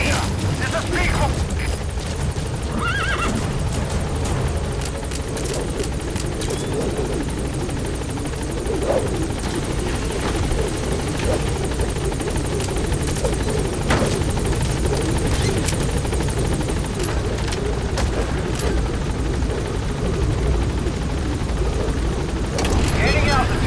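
A helicopter in Metal Gear Solid V: The Phantom Pain flies with a continuous loud rotor thump and engine roar, overlaid by radio-style voices and occasional gunfire-like bursts.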